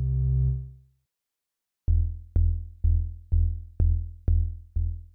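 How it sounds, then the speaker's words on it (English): A low sine tone from the Ableton Live Drift synthesizer is held for about a second, then after a short silence seven evenly spaced, punchy low notes thump with quick decays, loud and clean. "I will use a sine wave that sounds like this."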